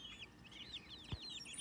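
Chickens cluck softly in a coop where they are being introduced to something new to peck at, a short faint burst of calls with no talk.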